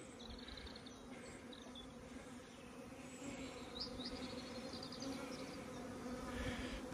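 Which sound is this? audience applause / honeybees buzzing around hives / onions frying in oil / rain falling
honeybees buzzing around hives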